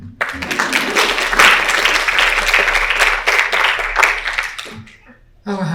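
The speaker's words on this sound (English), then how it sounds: "You can clap again." An audience claps at a lecture and musical performance, with dense applause swelling for several seconds and then tapering off, followed briefly by a voice.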